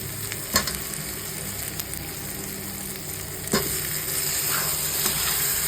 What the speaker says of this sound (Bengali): কষে গেছে এবার আমি আলুগুলো দিয়ে দেবো